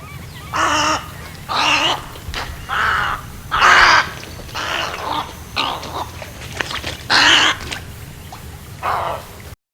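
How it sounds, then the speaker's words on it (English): A lakeshore bird's loud, harsh squawks as it takes off in flight, repeated about eight times in a rough, uneven rhythm, each a short raspy burst, close by with nothing else around them. "One of their sounds is a loud, harsh squawk that you can hear as the bird takes off in flight."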